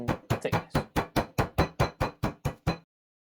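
Pork meat being flattened with a whacking device, about a dozen evenly spaced, loud, close thumping blows in a steady rhythm, then silence.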